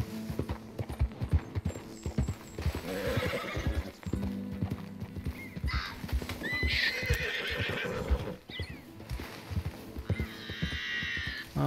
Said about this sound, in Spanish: Escucho otro caballo.